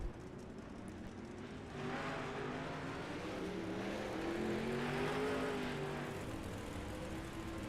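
360 sprint cars run on a dirt track, their engines droning at a distance, then swelling louder as revs climb and cars pass, with no voices.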